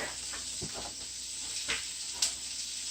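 A mushroom, spinach and feta omelet cooks in a pan, giving a steady, soft sizzle and hiss with a few faint ticks and pops, heard alone and fairly quiet.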